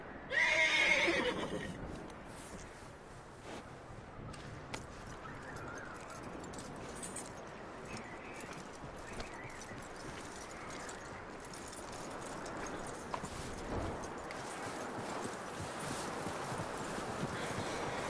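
A horse whinnies loudly at the start in Red Dead Redemption 2, then hooves clip-clop steadily on and on over a low ambient background, with no talking.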